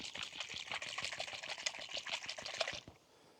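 Water pours into a small jar of fishing bait, giving a continuous close splashing trickle that stops abruptly near the end, with no talk.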